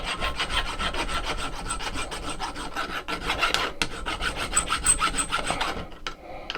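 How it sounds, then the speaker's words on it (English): A hand file rasps rhythmically across a homemade machete blade, rapid repeated strokes close up and loud, with a brief pause midway before the scraping resumes and stops. "Now we want to shape it with a file."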